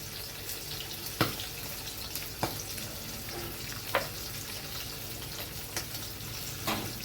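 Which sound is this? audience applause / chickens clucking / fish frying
fish frying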